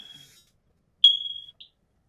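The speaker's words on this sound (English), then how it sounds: "It's his smoke detector." A single sharp, high-pitched electronic chirp from a smoke detector with a low battery, close and clear, followed by a brief faint echo in a quiet room.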